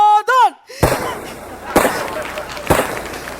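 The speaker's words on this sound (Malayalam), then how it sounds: "ആചാരവെടിയാ." Three sharp bangs of a ceremonial gun salute in a comedy sketch crack out about a second apart, loud and close, after a brief squealing voice at the start.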